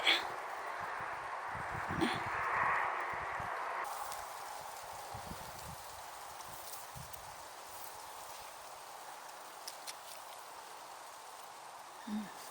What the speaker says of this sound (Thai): ฝนตกฝนมาแล้ว